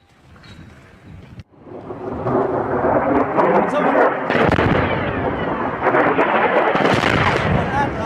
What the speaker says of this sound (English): You're going to hear explosions in this next round.